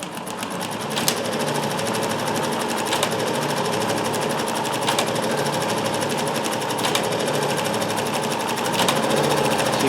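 A Dressmaker 2402 sewing machine with pattern cams runs continuously, its rapid, even needle chatter loud and close, with faint periodic clicks from the stitch pattern repeating every couple of seconds.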